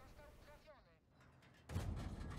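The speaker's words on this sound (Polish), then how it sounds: "I teraz Su-152. Pierwszy strzał." A Su-152 self-propelled gun in a video game fires a single heavy shot, a sudden loud booming blast that rings on after a brief stretch of quiet talk.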